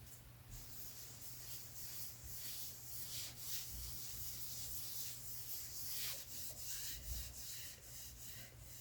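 Petroleum jelly oil finish being rubbed by hand into a wooden cutting board, a steady, continuous close-up rubbing and wiping sound with faint, uneven swells and no talking.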